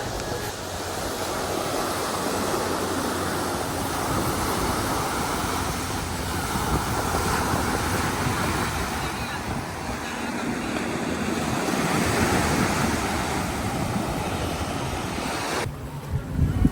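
Surf rolling onto Miami's South Beach near South Pointe Park Pier, a steady broadband wash of breaking waves with wind buffeting the microphone throughout, no voices.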